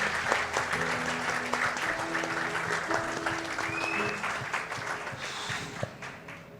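An audience claps at a victory celebration event, a moderately quiet spread of clapping mixed with background music tones and some voices, steady for several seconds before thinning slightly toward the end.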